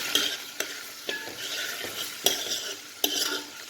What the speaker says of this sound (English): Let it fry properly.